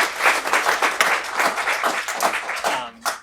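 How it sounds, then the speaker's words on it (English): A seminar audience claps in a dense, steady round of applause, many hands close together, tapering off near the end. "I'd like us to give a round of applause to Aaron, who's joined us today."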